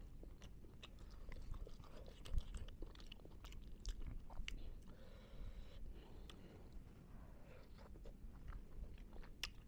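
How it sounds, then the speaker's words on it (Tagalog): Close-up, steady crunching and chewing of store-bought crunchy toasted bread, with repeated sharp bites and crackles over several seconds and no talking. "Ito yung crunchy bread, ng toasted na bread na bibili daan sa tindahan."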